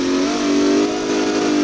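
A Chevrolet Corvette Z05 in BeamNG.drive revs hard with a steady, loud, buzzing engine tone that rises, dips briefly at an upshift and climbs again, close and alone.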